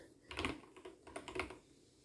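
Short bursts of typing on a computer keyboard, a few quick clusters of key clicks close by with brief pauses between them.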